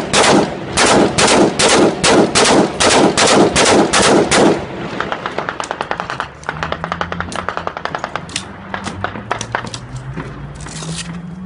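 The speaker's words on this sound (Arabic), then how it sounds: "خليها تشت رصاص اليوم على طريق جديدة" Gunfire in a Middle Eastern conflict zone, a rapid string of loud close bursts for several seconds, then scattered lighter shots crackling irregularly, with a low rising drone underneath.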